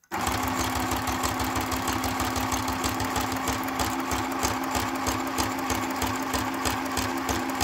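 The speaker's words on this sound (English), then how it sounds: "This is a little Janome sewing machine." A small Janome sewing machine that needs oiling runs continuously and noisily up close, a steady fast mechanical chatter with a constant hum, stitching paper hinges for an open-spine journal.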